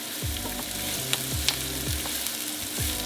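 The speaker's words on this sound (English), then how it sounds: "this is gonna cook on the stove for about 5 to 7 minutes" Onion for vodka pasta sizzles in a pan on the stove, a constant close frying hiss broken by a few rhythmic stirring scrapes and light clicks, with no talking.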